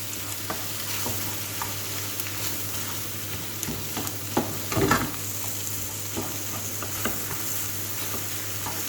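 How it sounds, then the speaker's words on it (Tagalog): Egg being stirred into tomatoes in a sizzling frying pan, with a steady hiss of frying under repeated scraping stirs and a louder clatter of the utensil midway. No one speaks. "I-mix na natin yung itlog sa kamatis."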